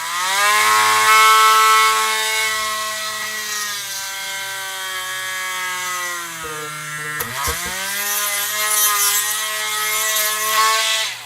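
Drill boring into a computer case, a loud steady whine with a strong tonal pitch that sags and recovers as the bit bites, briefly stalling and catching before spinning up again.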